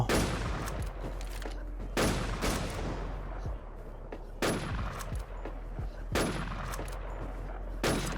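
Repeated bursts of gunfire in the shooter game Warz 2K, loud sharp volleys arriving roughly every two seconds over a constant low rumble of in-game background noise.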